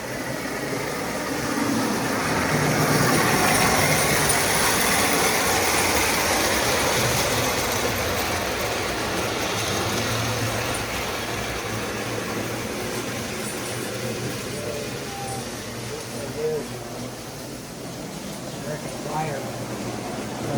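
An old American Flyer model train runs on its track pulling 500 series oil tank cars, a steady whirring rumble throughout while people talk over it.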